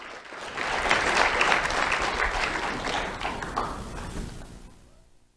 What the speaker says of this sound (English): Round of applause for Chase and Max Rodriguez.